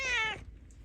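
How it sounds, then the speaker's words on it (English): A cat gives a single short, clear meow close by in a garage setting, followed by quiet. "Kitty's out here keeping me company"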